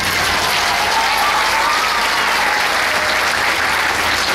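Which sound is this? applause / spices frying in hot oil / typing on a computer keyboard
applause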